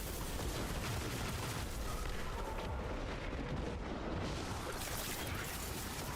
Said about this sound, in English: I hear the explosions outside